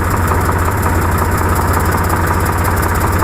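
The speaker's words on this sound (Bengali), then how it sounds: "গাড়ি স্টার্ট দিব।" A Swaraj 735XM tractor engine idles steadily after starting, a loud, close, continuous diesel rumble with an even, fast pulsing throb and no pauses.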